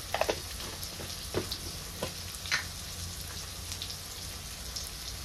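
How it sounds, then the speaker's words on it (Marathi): Spiced vegetables with tomatoes, chili powder and garam masala sizzling steadily in a frying pan while a spoon stirs them. A close, continuous crackling hiss carries a few soft scraping knocks early on and no talk. "तर आता हे छान असं मिक्स करून घेते"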